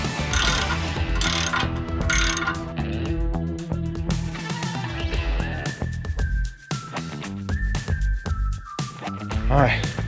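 Ratchet wrench clicking on wheel spacers during truck hub and brake work, a dense run of metallic ratcheting with rising mechanical whines, close and steady over about ten seconds.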